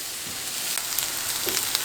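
Eggplant slices frying in a pan of oil, a continuous close hissing sizzle with small crackling pops scattered throughout.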